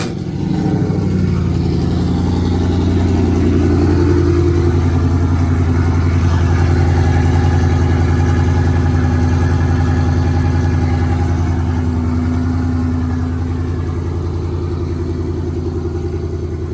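Chrysler 300/Charger V6 engine running after a swap, a steady close idle with a low rumble that rises briefly in the first seconds and then settles into an even drone.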